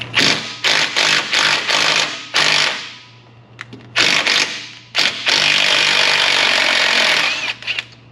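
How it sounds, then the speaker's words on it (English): A pneumatic impact wrench with a 10mm socket on a 1/2-inch drive hammers at bolts on a 2012 Chevrolet Avalanche 5.3 4x4, loud close bursts of rattling impacts with short pauses, ending in one long sustained run. "How about a 10mm 1/2" drive on an impact? It's either gonna snap the bolts off or they're gonna come out."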